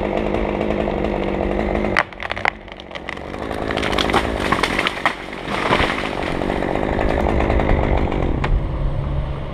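A chainsaw cuts into the hinge of a maple tree during felling, a loud, close, continuous snarl that dips briefly as the saw eases off, then bites back in and keeps cutting.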